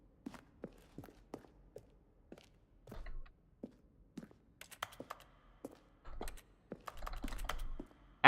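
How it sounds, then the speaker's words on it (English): Hollow, echoing keyboard typing in The Stanley Parable: Ultra Deluxe, a run of sharp clicks in uneven bursts with reverberant tails, some heavier thumps like footsteps mixed in, close and alone without talk. "Echoing keyboard noises"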